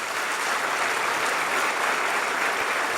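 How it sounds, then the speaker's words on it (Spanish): A church congregation applauds in a steady, dense wash of clapping that holds at an even level throughout, with no voices standing out. "Denle un aplauso al Señor."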